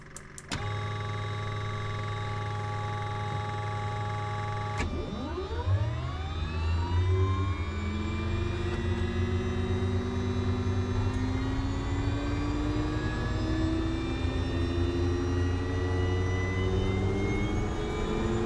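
Kodiak turboprop aircraft engine starting up: a steady tonal hum gives way to a rising whine around five seconds in, with the turbine tones climbing and settling into a loud, continuous roar.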